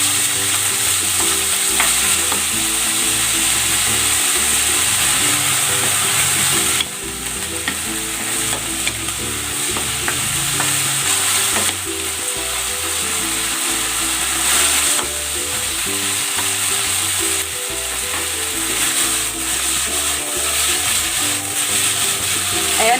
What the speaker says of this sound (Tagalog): I-stir fry ko muna itong beef.